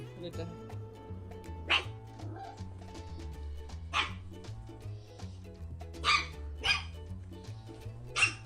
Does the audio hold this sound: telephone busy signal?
no